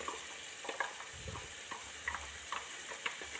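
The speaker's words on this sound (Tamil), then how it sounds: "அரைச்சி வச்ச இந்த விழுதை இதை மறுபடியும் இதில் போட்டுடணும்" Ground spice and coconut paste with cinnamon and cloves tipped into a hot pan for a white gravy, giving a steady sizzle with soft stirring scrapes and a few light clicks, close and moderately quiet, with no talking.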